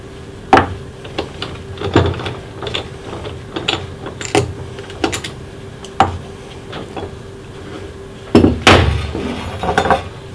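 Parts from a Vigor V4680 universal metal tool set clink and clatter as lock nuts and fingers are removed. Sharp, close metallic taps and knocks come at irregular intervals, with a cluster of louder clanks near the end.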